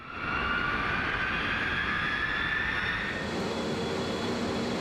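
A B-52 bomber's engines spool up for takeoff on a runway, a loud, steady roar with a rising whine that holds for several seconds.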